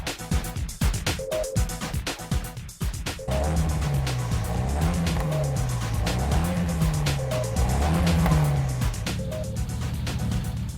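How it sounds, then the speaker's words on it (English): Exhaust of a tuned Nissan S15 Silvia rally car modified by CSP, heard close and loud with steady engine drone and rising, falling pitch sweeps as it revs, after a few seconds of louder mixed noise. "listen to the tunes of this exhaust"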